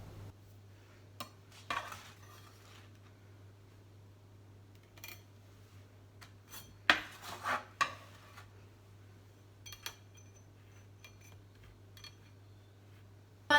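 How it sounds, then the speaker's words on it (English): Shortbread biscuits set down one at a time onto a wire cooling rack, giving a handful of light, scattered clinks and taps over a steady low hum, with no voices. "simply delicately place them one by one onto the rack to cool"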